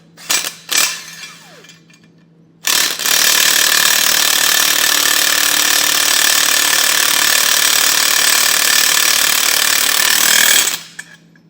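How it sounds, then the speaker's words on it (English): Power tool snugging nylon lock nuts on a hidden hitch receiver of a 2023 Hyundai, a few short bursts then a long, loud, steady whirring run close by, no talk. "I'll come back with a 15/16 socket and wrench and snug them down."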